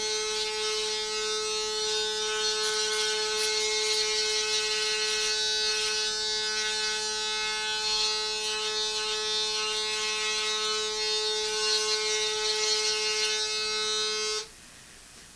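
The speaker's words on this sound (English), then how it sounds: "to shaving, with just the same foil razor that I use on my face" Electric foil razor shaving skin, a steady close-up motor buzz that holds constant for about fourteen seconds before abruptly switching off, with no talking.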